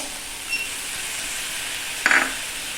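Chili paneer being stirred in a pan with tomato and chili sauce, a soft steady sizzle with a faint scrape and one brief louder clink of a utensil near the end.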